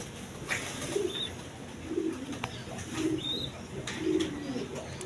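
Breeding pigeons at a farm coo in a steady rhythm, about four low rolling calls spaced roughly a second apart, with faint chirps above and no talking.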